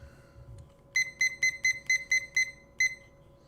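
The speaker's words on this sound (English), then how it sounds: "Use my irritating egg timer." An egg timer beeps in a series of eight regular, bright electronic pulses, then a short pause and one final beep, each loud and close against a faint steady hum.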